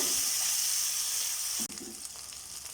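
Okra (lady's finger) sizzles steadily in a hot pan, a dense close frying hiss that drops abruptly partway through, followed by quieter crackle and a few stirring knocks.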